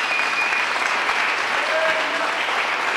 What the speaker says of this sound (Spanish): ¿Cuántos se atreven a darle un aplauso al Señor?